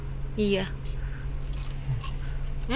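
A crunchy bite into hot, toasted coconut monkey toast sounds up close, a short crackling crunch heard under nearby talking.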